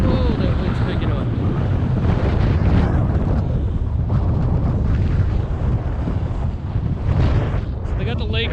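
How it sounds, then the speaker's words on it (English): Wind gusting by a drained lake in cold country, roaring steadily as broadband rumble and buffeting against a GoPro Hero 7 Black microphone, loud and continuous throughout with no pauses. "Oh, that wind's picking up."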